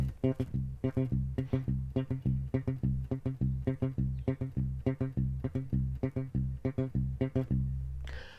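Muted, percussive thumb-slapped bass guitar playing a steady syncopated disco groove, short plucked notes repeating rhythmically and fairly loud with no voices.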